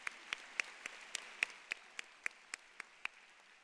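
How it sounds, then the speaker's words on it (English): Sparse, evenly spaced claps from a small part of a graduation audience, close and distinct, about a dozen sharp hand claps in a steady rhythm with no voices. "Yeah, you can clap"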